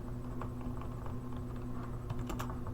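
Typing on a computer keyboard: a quiet run of irregular clicking keystrokes over a faint steady hum, with a quick cluster of taps near the end.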